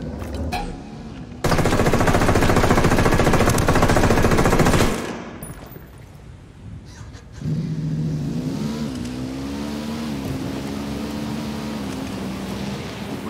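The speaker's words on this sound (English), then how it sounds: "I'm hearing engine noise." Vehicle engine in the Ghost Recon Wildlands video game: a loud roaring, rattling burst that drops away, then a steady revving engine drone with rising and falling tones, mixed with game noise.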